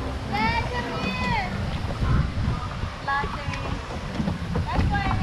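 Steady wind rushes across the microphone while kayaking off Guam, a constant broadband roar with faint water sounds, and people talk and call out over it throughout.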